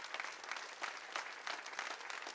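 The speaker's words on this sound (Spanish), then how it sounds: "Dale un aplauso al Señor" A church congregation applauds, a soft, distant wash of clapping with a gently pulsing rhythm, steady from start to finish with no talk over it.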